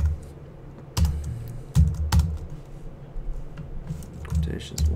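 Keys clatter on a computer keyboard as C++ code is typed in irregular bursts of close, crisp clicks, with a person talking over the typing.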